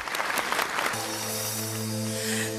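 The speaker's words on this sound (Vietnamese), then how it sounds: "Một tràng pháo tay cho chàng trai con rất là dễ thương" A live audience applauds a young boy on a Vietnamese TV singing show, a short burst of clapping and cheering that fades after about a second as sustained musical tones from the next duet's intro take over.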